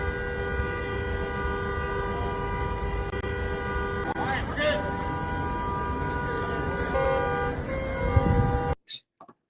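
Vehicle horns blare in a sustained, steady tone that runs almost the whole time, with a few brief louder bursts near the end before it cuts off abruptly.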